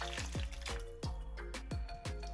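Melted butter, milk and water poured from a pan into a container, a series of sloshing, gurgling splashes and liquid glugs at close range with no voices.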